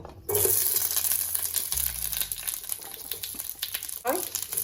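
Onions, tomato and chilli fry in hot ghee for chicken do pyaza, a steady loud sizzle and crackle filling the clip after a brief quiet start, with stirring clatter and a clunk of utensils partway through.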